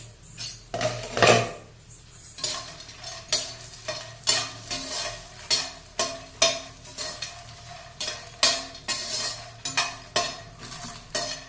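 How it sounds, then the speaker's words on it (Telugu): Phool makhana (fox nuts) frying in ghee in a pan, with a soft sizzle under repeated scraping stir strokes in a steady rhythm, close and fairly loud, with no talking. "ఇప్పుడు ఈ ఫూల్ మఖానా వేయించుకుందాం"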